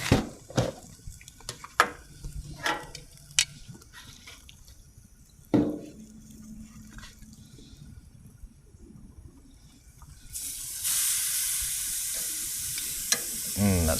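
Beef hits a hot grill with squash, close scraping and tapping at first, then a steady loud hissing sizzle in the last few seconds.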